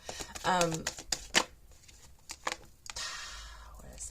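Cards are shuffled with a quick riffle and some flicking, close by, while a person talks around the shuffling.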